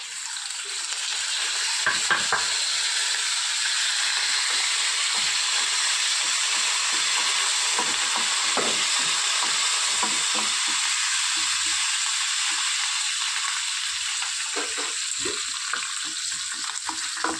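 Mustard seeds spluttering in hot oil with curry leaves tossed in, a steady loud sizzle and hiss throughout with scattered sharp pops and crackles, no voices.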